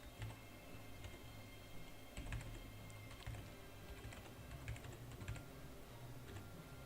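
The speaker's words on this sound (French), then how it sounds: "Donc je vais taper un peu n'importe quoi." Quiet typing on a computer keyboard while entering data into an Excel spreadsheet, a steady patter of soft key clicks close by with no talking.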